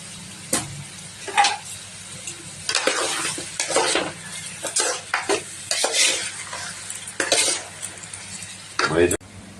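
Sliced onions with salt are stirred in a pan for Andhra-style fish curry, a spoon scraping and clinking against the metal in uneven strokes over a soft, continuous sizzle, with a final clatter as if a lid is placed on.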